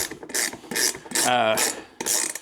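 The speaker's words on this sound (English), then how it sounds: "if you can hear that Icon, that ratcheting system is" Icon ratchet wrench mechanism clicking rapidly in several close, loud bursts of fine ratcheting with brief pauses between them, no talk.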